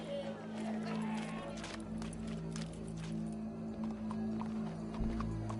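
Horse hooves clip-clopping at a steady walk beneath a low engine-like drone, with faint background noise and scattered movement sounds.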